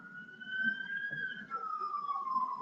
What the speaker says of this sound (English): I'm trying to have a conversation and the siren, yo.